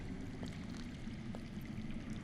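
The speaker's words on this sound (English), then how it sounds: "I hear water. From underground." Running water underground in a Game of Thrones video game, a faint, steady rushing and gurgling stream heard from a distance, continuous throughout with no voices.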